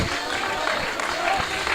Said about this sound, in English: they're getting a good round of applause from their away supporters and their directors here right by our commentary position